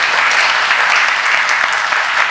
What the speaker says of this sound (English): As I call their names, just give them a round of applause, please.